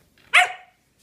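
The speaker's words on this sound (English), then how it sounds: "Oh, he barks. He barks." A corgi gives a single sharp, close bark that trails off quickly, with silence around it.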